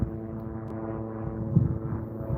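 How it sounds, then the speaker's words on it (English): A steady low mechanical drone of a helicopter engine hums on, fairly distant overhead, with a slight swell near the end. "It's a helicopter of some sort."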